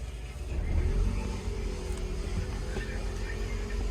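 A Toyota Estima minivan's engine runs steadily after a jump start, a low continuous hum with a slight swell near the start, close and moderately loud.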